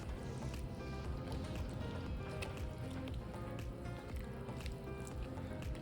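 Lemon juice is stirred into a barley soup, giving soft, wet squishing and small drips in an uneven rhythm, faint and close.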